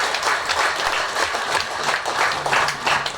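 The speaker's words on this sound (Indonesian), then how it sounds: "kita juga perlu memberikan tepuk tangan untuk Ibu Lurah" An audience at a village office inauguration in Kepi applauds, dense steady clapping from many hands filling the whole stretch without pause, fairly loud and close.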